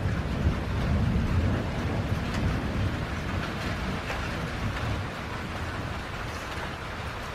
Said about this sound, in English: There's lightning and thunder.